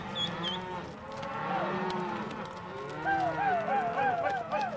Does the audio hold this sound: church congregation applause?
no